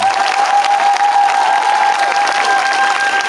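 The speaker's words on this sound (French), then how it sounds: "On acclame fortement le Saint-Esprit." A church congregation claps loudly and steadily, a dense continuous round of applause lasting about three seconds with no voices standing out.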